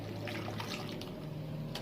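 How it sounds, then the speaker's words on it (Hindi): Warm milk poured into pancake batter with vanilla essence, a soft liquid trickle and pour heard close and quiet for under two seconds, with no talking. "ये देखिए आपने मिल्क डालना है।"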